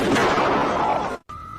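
A single gunshot in an Indonesian-narrated recap of a film, the shot hitting a young man in the chest; a loud, dense blast that cuts off abruptly, followed by a brief gap and a steady tone.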